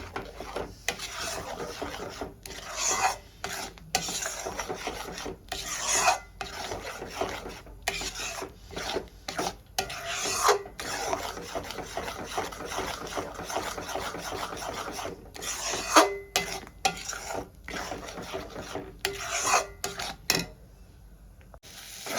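Green pea paste is stirred and scraped nonstop in a pan until it dries into a stiff dough, making repeated rasping strokes in uneven bursts, close up and with no voices.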